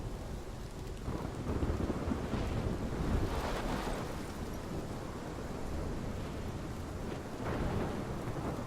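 Stormy weather from the video game Life is Strange: heavy rain hisses constantly while wind gusts and rolling thunder swell and fade in several waves, with no voices.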